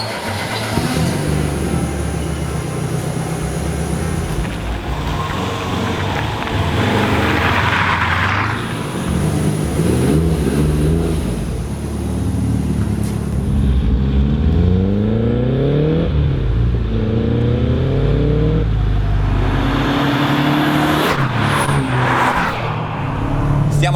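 Three rally-bred cars, a Lancia Delta, a Subaru Impreza and a Mitsubishi Lancer, drive across Russia near Moscow. Loud, continuous engine drone rises and falls through the gears with repeated revving sweeps, close and steady.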